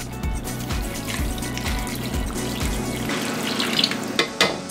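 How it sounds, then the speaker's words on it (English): Two cups of water pour steadily into ground beef in a pan, a continuous rushing splash that mixes with low sizzling and ends with a few clanks of the pan. "We're going to add 2 cups of water"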